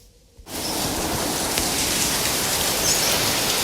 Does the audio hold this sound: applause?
no